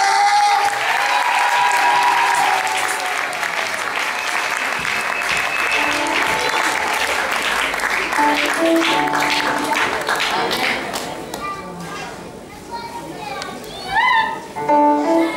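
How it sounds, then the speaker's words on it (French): A concert crowd at a Christian choir event claps and cheers loudly and steadily, with a few voices calling out through the sustained applause, which dips briefly near the end before swelling again. "Est-ce qu'on peut encore acclamer?"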